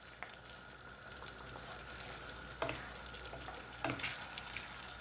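Patak's curry simmers and sizzles in a pan after yoghurt is stirred in, a steady close bubbling hiss with a few scraping stirs of a utensil.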